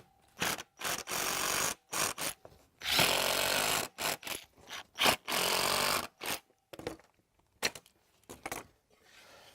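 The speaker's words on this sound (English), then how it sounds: "And now we're able to put these screws in with it being perfectly flat." Power screwdriver driving screws into clamped wooden pieces for a tabletop planter, a series of loud, short whirring bursts separated by brief pauses, close up with no talking.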